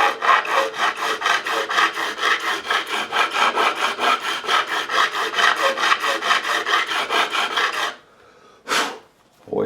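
A curved fret file rasps back and forth across the frets of a Fender '62 Telecaster reissue during a re-fret, producing a fast, even run of close strokes that stops abruptly, followed by a couple of brief scrapes.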